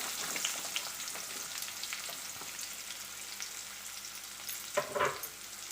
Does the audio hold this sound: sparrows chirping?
no